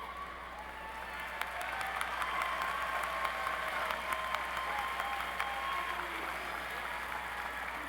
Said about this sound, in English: Let's applaud the College of Business graduates.